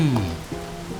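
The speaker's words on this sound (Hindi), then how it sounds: "इतनी बारिश हो रही है, कहाँ जाओगी तुम?" Heavy rain falls in a brief indoor drama scene, a soft steady patter beneath a short gliding tonal sound.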